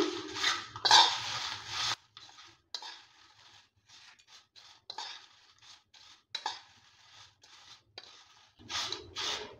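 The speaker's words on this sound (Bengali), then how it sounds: "ভালো করে এভাবে করে মিক্স করে নিচ্ছি" Potato peels tossed with chaat masala and chili powder in a bowl before frying, close scraping and rubbing strokes of a spoon against the dish in uneven bursts with short pauses.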